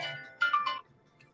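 A short electronic phone ringtone chirps through a call line, three quick rising tones in under half a second, moderately loud over faint background.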